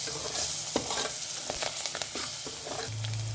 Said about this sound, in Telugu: కలుపుతాం బాగా.